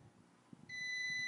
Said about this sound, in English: Come on, where's the beep? Oh, there we go. There's the beep.